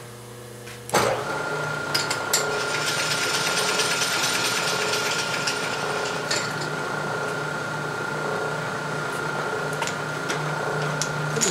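A milling machine cuts steel stock with a half inch end mill, starting abruptly and running as a steady, loud mechanical whine and hum with a constant tone and occasional small ticks.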